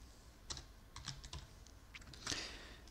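Scattered keystrokes on a computer keyboard as a file name is typed, a few quiet clicks spaced irregularly, then a brief flurry near the end, with no talking.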